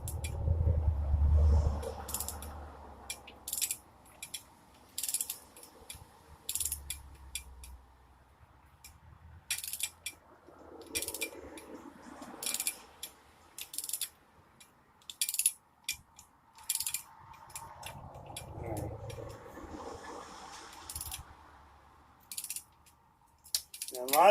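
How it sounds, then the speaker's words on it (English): Ratchet wrench clicking in short irregular bursts while working a bolt near a tube on a 1999 Ford F-150, close and fairly quiet, with pauses between strokes and no talking. "I am hitting up against the tube with the ratchet"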